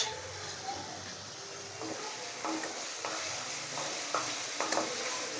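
Spiced fish frying in a pan with coriander, turmeric and Kashmiri chili powder sizzles steadily while a spatula stirs it in a series of soft, repeated scraping strokes, all close and constant with no talking.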